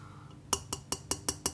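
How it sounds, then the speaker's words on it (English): Six bright, evenly spaced clinks from a plastic wine glass with a damaged stem being tapped, each a short sharp tick, close and clear with no voices. "This is actually a plastic wine glass. As you can probably hear."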